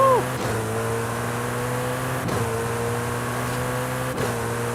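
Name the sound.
car accelerating toward 300 mph in video game Forza Horizon 5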